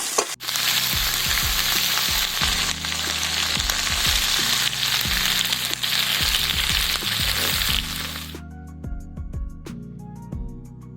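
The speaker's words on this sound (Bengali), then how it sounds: "এরপর ওর সাথে কাঁচা লঙ্কা কুচি আর সামান্য আদা থেঁতা আর কিছু রসুন কুচি দিয়ে একসাথে ভাজতে" Chopped green chilli, crushed ginger and minced garlic frying for chili chicken give a loud, close sizzle with frequent spatula scrapes and clanks; after about eight seconds the hiss cuts off, leaving quieter ringing metal taps.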